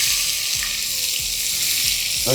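Onion frying in a pan for Mysore white biryani makes a loud, steady sizzle that runs throughout, with a few soft stirring knocks underneath and no talk, heard close up.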